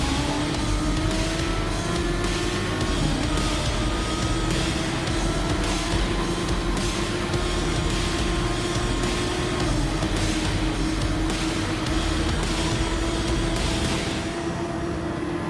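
Race car engines in Gran Turismo 7 during a lap of a race: a dense, loud, continuous engine drone with steady high whine and layered roars from closely packed cars, sustained throughout.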